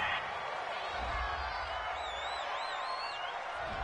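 A home crowd at a football game roars steadily after a penalty flag on third and goal, a sustained distant cheer with scattered whoops and whistles rising over it.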